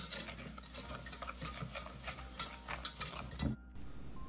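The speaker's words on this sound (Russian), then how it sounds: "Добавляем сахар и продолжаем взбивать." A wire whisk beats batter with added sugar in a bowl, a close, quick scraping and clicking rhythm that stops abruptly near the end.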